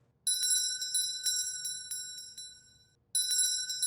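A bright electronic bell chimes repeatedly in two bursts separated by a short pause, clear and fairly close, with no voices.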